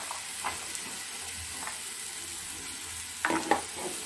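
Cluster beans sautéing in a pan with dal: a faint, steady sizzle under occasional soft spatula scrapes, with a brief louder stirring clatter near the end.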